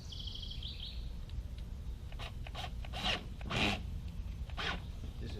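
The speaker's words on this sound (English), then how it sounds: "Put your clamp on there, tighten that up." A hose clamp is tightened onto a 1.25-inch sump pipe hub in a crawl space, with several short rasping, ratchet-like bursts close by over a steady background hiss and no speech.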